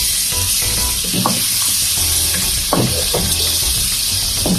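Onions cook down in a pan alongside spicy garlic pork, giving a constant close sizzle broken by a few scraping stirs and clinks of a utensil.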